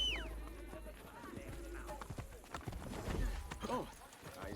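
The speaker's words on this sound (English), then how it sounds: "let's call our horse" Horse hooves clip-clop in the Assassin's Creed Brotherhood video game as a called horse arrives in Rome near the Colosseum, a brisk uneven patter over low rumbling game ambience with scattered sound effects.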